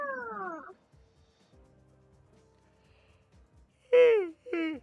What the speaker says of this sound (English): Cute cat board. It's called a meow board.